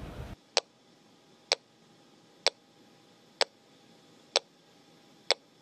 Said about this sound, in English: So this is the pinger right here, and we're just going to play for people the noise it makes.